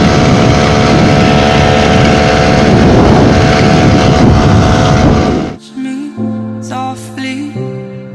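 A moped engine drones steadily while riding, its hum tangled with heavy wind rush at the microphone, then cuts off abruptly as music takes over for the last few seconds.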